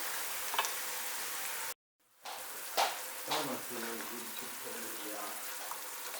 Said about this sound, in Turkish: Biberler de kavrulsun.